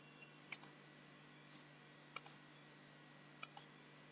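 Computer mouse clicked while inserting an image into a Google Form on a PC: three faint double clicks, evenly spaced and close, over a quiet hum with no talk.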